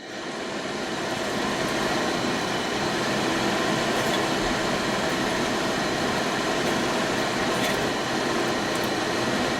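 The engine of a 1967 Chevy C10 Stepside pickup, a barn find under repair, runs steadily with a dense, continuous roar throughout, loud and close with no talking.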